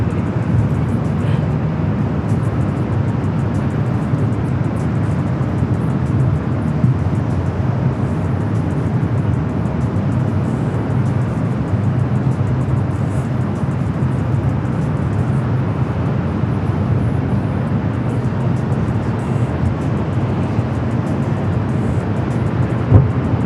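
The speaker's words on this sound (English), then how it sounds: "Atlas Air 747-400 freighter heading over to 25 right for takeoff." An Atlas Air Boeing 747-400 freighter taxiing at LAX toward runway 25 right for takeoff, a steady loud low engine rumble and roar that holds level throughout with no talk.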